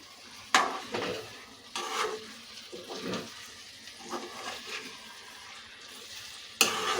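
A spiced egg and brinjal mixture is stirred in a pan, giving several scraping, clattering strokes at uneven intervals over a low sizzle. Two sharper knocks stand out near the start and end.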